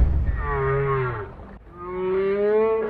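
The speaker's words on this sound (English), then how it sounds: "It's whale sounds." Whale song played back inside a car: long, sliding moaning calls with rich harmonics, two drawn-out phrases separated by a brief dip, fairly loud and alone with no talk.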